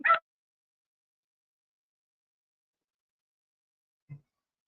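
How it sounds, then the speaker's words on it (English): Hound dogs bark indoors as someone comes through the door: one short sharp yelp at the start, then near silence, and a brief low woof about four seconds later. "these hounds of mine is barking because I'm coming in the door"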